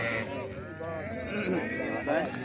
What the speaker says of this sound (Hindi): ज़ोर ख़ान की ब्लड लाइन के एनिमल हम आपको दिखा रहे हैं जी, टॉप क्लास की शीप्स इस वीडियो में।